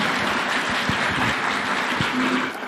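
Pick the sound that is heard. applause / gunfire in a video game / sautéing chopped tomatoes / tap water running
applause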